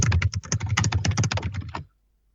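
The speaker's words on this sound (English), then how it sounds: "Furious typing." Rapid, close typing on a computer keyboard, a dense flurry of key clicks that stops abruptly, leaving near silence.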